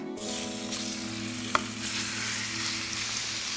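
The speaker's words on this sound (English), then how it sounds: "into my preheated pan, I'm going to add my beef" Beef searing in a preheated oiled frying pan, a steady loud hiss of sizzling that starts abruptly and holds, with a single small clack partway through and no talk.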